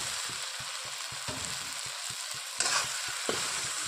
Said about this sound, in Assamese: এইখিনি মই আকৌ অলপ সময় ভাজি ল'ম